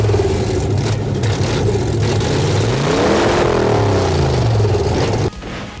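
A rat rod car engine revs loudly and close, rising in a sweeping pitch climb around the middle and holding a steady rough roar before cutting off sharply near the end.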